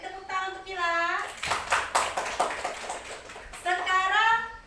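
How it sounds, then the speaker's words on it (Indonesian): Classroom clapping for a student, a short burst of many small hands clapping in the middle, framed by children's voices chanting before and after. "beri tepuk tangan untuk Kila"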